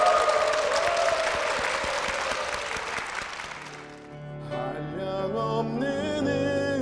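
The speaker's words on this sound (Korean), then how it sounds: "우리 두 분께 힘찬 박수 부탁드리겠습니다" A church congregation gives a loud burst of sustained applause that lasts a few seconds, then fades as music begins to play.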